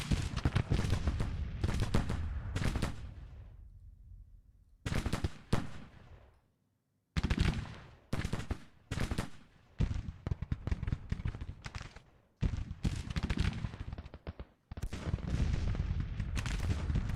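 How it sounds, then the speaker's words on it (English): Continuous musket volleys crackle and rumble in a Civil War battle in the Grand Tactician strategy game. The dense, overlapping gunfire comes in long loud stretches broken by brief lulls. "All right, Greg, did you get your mixed muskets into the fight yet?"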